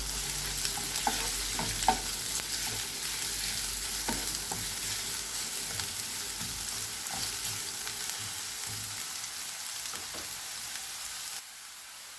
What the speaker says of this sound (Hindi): ऑयल गर्म हो गया, अब इसमें प्याज डाल देंगे। प्याज को हल्का लाइट गोल्डन ब्राउन कर लेंगे।